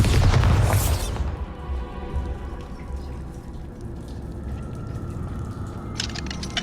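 A Bombarda spell blast in Hogwarts Legacy on Nintendo Switch, a single heavy boom at the start that quickly fades into a low rumbling tail and quiet ambience.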